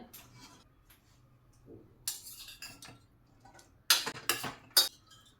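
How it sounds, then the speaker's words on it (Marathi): A few quiet metallic scrapes, then several sharp clanks and clinks of a pressure cooker lid being opened up close. "झाकण काढून पाहूया."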